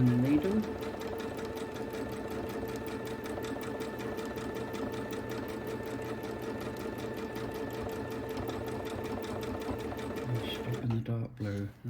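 A sewing machine stitches free-motion quilting swirls on a quilt, a steady close, fast mechanical hum and needle chatter running continuously before slowing near the end.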